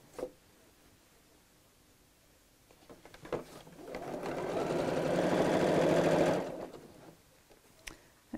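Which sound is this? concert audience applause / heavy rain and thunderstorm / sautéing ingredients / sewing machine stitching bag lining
sewing machine stitching bag lining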